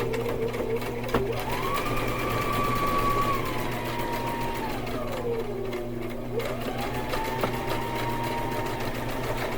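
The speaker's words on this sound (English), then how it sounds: "Sew. And back stitch all the way back." Sewing machine running steadily as it stitches forward and then back-stitches across a rice-filled fabric bag, a continuous close whirring with pitch sliding up and down as the speed changes.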